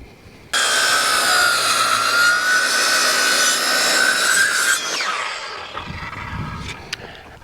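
A saw cuts through a thick wooden railroad tie with a loud, close, continuous rasping roar for about four seconds, then winds down and fades as the cut ends.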